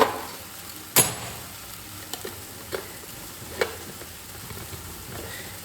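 Onion, garlic and green chili masala frying in a pan for chicken, a faint steady sizzle broken by a sharp clatter near the start and a few light scrapes of stirring, with no voices.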